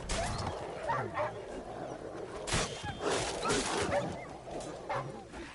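Dogs bark and yip in The Witcher 3 amid a noisy, chaotic game scene, with scuffling sounds and broad rumble underneath; the barks are moderately loud but partly masked.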